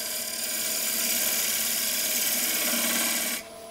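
A gouge cuts a wooden bowl on a lathe, the bevel riding the surface as it works toward the foot, giving a steady close-up rasping hiss with a spinning tonal hum that continues evenly before stopping abruptly near the end.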